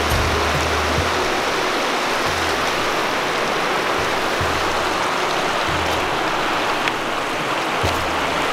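A river in Parvati Valley near Kasol, Himachal Pradesh, rushes with a loud, steady roar of flowing water, continuous throughout with faint low thumps beneath.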